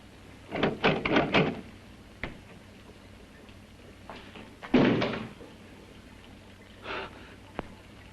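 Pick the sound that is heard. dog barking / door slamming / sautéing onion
door slamming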